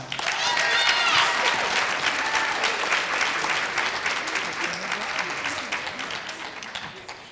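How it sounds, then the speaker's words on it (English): A crowd applauds steadily at a school poetry recitation competition, loud at first and gradually tapering off, with some cheering voices mixed into the clapping. "Can we give our 5th, 3rd, 4th, and 5th grade poetry recitation participants a round of applause?"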